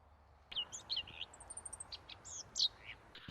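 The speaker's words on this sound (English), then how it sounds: "I just had to put my Merlin app on for this bird because I didn't recognise it. It's a greater white throat" Greater whitethroat singing in an early summer meadow: a run of quick scratchy chirps and warbling notes, moderately close and clear over a quiet background, with no voices.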